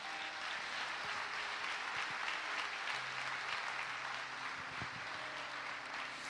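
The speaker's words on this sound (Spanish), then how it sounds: "Le damos un aplauso al Rey por ello." A church congregation applauds during a Spanish-language sermon, producing a steady, even wash of clapping at moderate distance that holds without pause.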